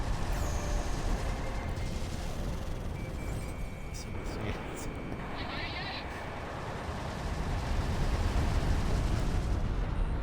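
A ground target blows up in the jet combat video game Ace Combat 6, a heavy, continuous low rumble and roar that fills the whole stretch and swells louder toward the end, with faint higher tones drifting above it.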